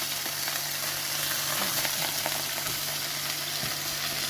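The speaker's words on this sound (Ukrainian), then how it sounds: "І смажимо дві хвилинки під кришечкою" Oil sizzles and crackles steadily in a covered pan frying chebureks made from lavash, close and constant, with occasional small pops and no talking.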